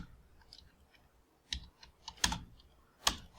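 Keystrokes on a computer keyboard while entering text into an Excel sheet, a handful of sharp, close clicks in uneven bursts with short pauses between them.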